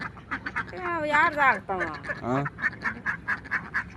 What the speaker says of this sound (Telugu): బాతులు మీరు మామూలుగా సాకుతారు కదా?